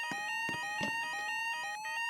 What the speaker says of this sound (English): This is my first time playing a fire alarm game.